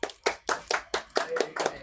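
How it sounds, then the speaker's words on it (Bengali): A few people clap at a small gathering, giving sharp, distinct hand claps in a loose, uneven rhythm with brief gaps between bursts. The claps are close and moderately quiet. "হাততালি আবার একটা"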